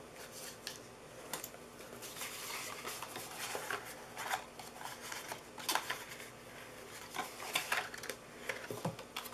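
A bone folder creasing the folds of a paper gift box: soft, repeated scraping and rubbing strokes of tool on card, close and quiet, with no talk.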